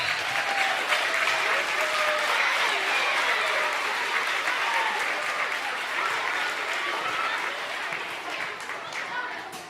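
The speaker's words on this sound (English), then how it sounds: "teachers, how about let's give these kids a round of applause" At a Parker Elementary Blue Ribbon ceremony, a crowd applauds the school kids in a sustained, full round of clapping that tapers slightly near the end, with cheering voices mixed in.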